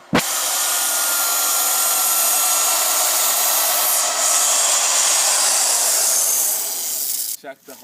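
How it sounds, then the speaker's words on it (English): A corded drill bores a sap tap hole into a maple tree, giving one steady, loud whirring grind held for several seconds close by before it stops abruptly. "So I'm going to show you how I drill these holes now"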